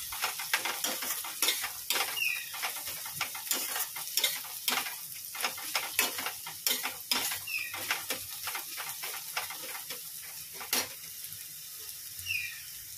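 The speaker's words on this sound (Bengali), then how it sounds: "তেলে সাদা জিরে আর একটু অল্প কালো জিরে ফোড়ন দিয়ে পেঁয়াজটা লাল লাল করে ভেজে নিচ্ছি" Onions frying in oil with white and black cumin seeds, a soft steady sizzle broken by frequent sharp scrapes and taps of a spatula stirring against the pan, close up and with no talking.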